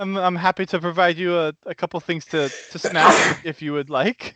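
One sharp sneeze bursts out in the middle of continuous talk, loud and close, with speech before and after it.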